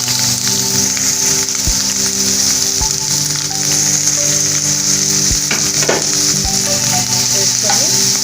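Chopped onions with curry leaves fry in a pan for a Telugu-style chamadumpala pulusu, giving a steady, loud close sizzle with a few stirring scrapes and clicks over the continuous crackle.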